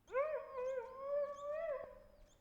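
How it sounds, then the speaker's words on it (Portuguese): A lone dog gives one long, sustained howl, rising and wavering in pitch before dipping at the end, heard fairly faintly and alone without any voices. "Um cão pode uivar mais ou menos do mesmo modo quando sua matilha humana o deixa sozinho em casa."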